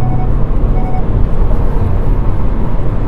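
A diesel and electric hybrid car accelerates at highway speed, heard from inside as a dense, loud, steady roar of engine and road noise with low rumble.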